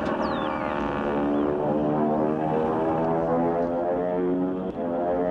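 Steady droning engine hum with layered tones, continuous and loud throughout, like a propeller airplane in flight, with a brief whistling sweep at the start.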